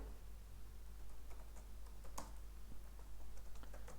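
Keys clack steadily on a computer keyboard as JavaScript code for a Node.js Express server is typed, a brisk run of close, quiet taps with a few sharper strikes over a low steady hum.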